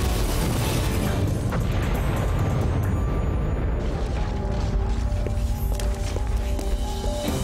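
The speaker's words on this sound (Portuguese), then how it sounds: "Explosão Tecna" A cartoon magic blast from the Winx Club fairy Tecna's spell unleashes a loud, sustained whooshing burst that fills the scene, settling into a shimmering, ringing tail of bright electronic tones.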